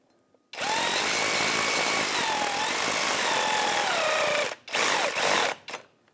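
A power tool with a T30 Torx bit drives the oil pan bolts on a 1998-2011 Ford Ranger 3.0L V6: a loud whirring run of about four seconds, then two shorter bursts close up.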